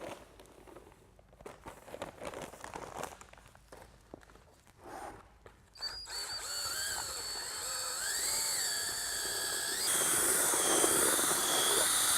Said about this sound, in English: We recommend you mixing it with a drill.